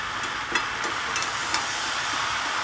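Cabbage curry with ground cumin and chili powder being stirred in a pan, a steady close sizzle with a few light scraping taps from the utensil.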